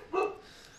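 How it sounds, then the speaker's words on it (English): A dog gives a single short bark a little way off, faint and brief, inside a quiet room. "I apologize for the dogs, folks."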